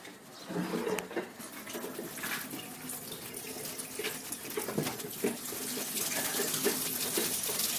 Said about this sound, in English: I'll just show you by opening up the tap.